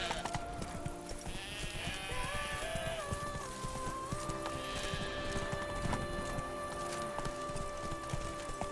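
Hooves of the horse Roach in The Witcher 3: Blood and Wine beat in a steady galloping clip-clop under in-game music and ambience, moderately quiet throughout.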